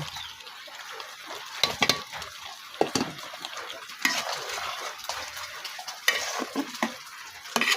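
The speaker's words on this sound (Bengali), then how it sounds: "নারকেল আর ডিম আলু একসাথে দিয়ে কষিয়ে নিব" Coconut, egg and potato stir-fry in a pan, with repeated scraping strokes of a spatula over a steady sizzle, close and fairly loud, with occasional sharper clinks of metal against the pan.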